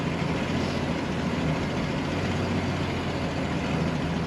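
A 1966 Ford Mustang coupe idles with an electric choke engaged, giving a steady, even engine rumble with a broad hum and no pauses throughout.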